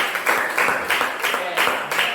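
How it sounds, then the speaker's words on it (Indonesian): A group claps in a rhythmic, patterned beat during a teachers' coaching session for academic supervision. The claps are close, loud and evenly spaced over about two seconds. "Tepuk tangan dulu."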